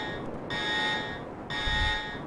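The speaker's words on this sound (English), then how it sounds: "that alarm should shut off about a second after the final door closes" Space Engineers game alarm sounding as hangar doors lower: two electronic buzzing tones, each about a second long, separated by a brief gap, with a low mechanical thump under the second.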